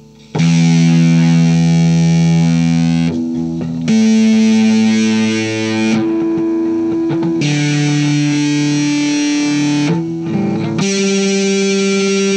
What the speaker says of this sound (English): So this is original distortion.